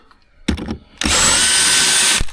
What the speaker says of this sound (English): Do you want to do the drill?